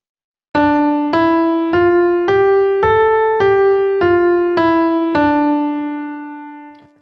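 Eight evenly spaced piano notes step up five scale degrees and back down, clear and solo, the last note ringing out and fading.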